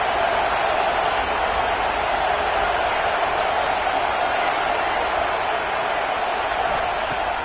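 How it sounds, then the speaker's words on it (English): Dense, steady roar of a packed stadium crowd at a football game, loud and continuous throughout with no breaks, a broad wash of many voices and noise. "listen to this crowd noise"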